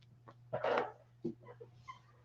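A dog gives short whining, yelping vocal bursts, one louder outburst and a few fainter whimpers close by, over a low steady hum.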